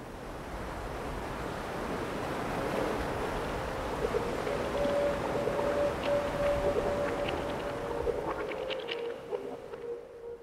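Rough ocean surf churns and crashes continuously where two currents meet, a steady broad roar of chaotic water with storm wind rushing over it, no voices.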